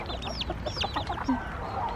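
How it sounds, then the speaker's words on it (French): Chicks cheep on a farm in quick, high, repeated peeps, fairly close, over a steady low rumble of farmyard background. "Oh, il y a des poussins là. Tu les entends? Ah oui, les petits poussins."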